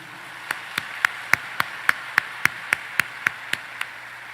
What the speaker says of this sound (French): On encourage les monde de bien yo avec un gros applaudissement solidarité.